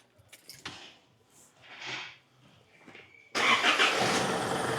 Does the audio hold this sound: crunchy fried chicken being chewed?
no